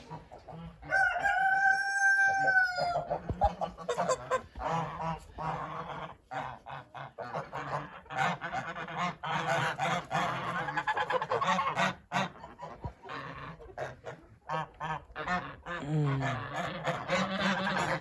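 Loud, busy honking and cackling from a flock of farm geese, with a crowing-like call near the start and harsh calls overlapping throughout.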